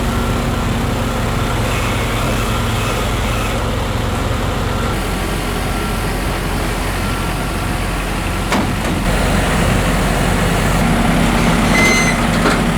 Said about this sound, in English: Miles is jumping on the forklift, he's going to quickly unload them